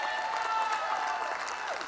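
Audience applause at a conference showcase on inclusion and diversity, a steady continuous clapping from a crowd that holds at an even level throughout the clip.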